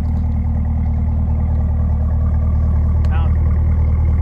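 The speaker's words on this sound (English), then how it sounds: "I'm going to hit that button here in just a second because I know everybody loves an exhaust clip" Chevrolet ZL1 Camaro with active exhaust, a loud, steady deep engine drone with strong low rumble throughout, close and continuous, with a brief higher whine near the end.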